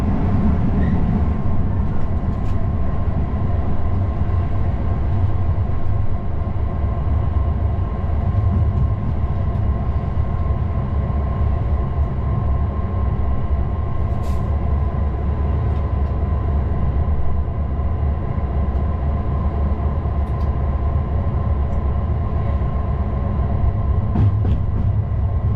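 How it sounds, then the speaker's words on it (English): Steady rolling rumble of a charter train hauled by the Mayflower steam locomotive with a Class 47 diesel banking at the rear on a steep incline, heard from the cab as continuous loud running noise. "A rare treat, Mayflower steam locomotive working a charter service from Waterloo to Windsor."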